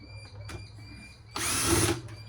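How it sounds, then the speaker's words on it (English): A power drill removing screws from an old air conditioning unit, a short tap followed by a loud whirring burst of about half a second, close up, with no talk. "Just start removing screws."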